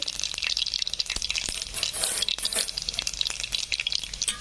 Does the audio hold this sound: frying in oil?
yes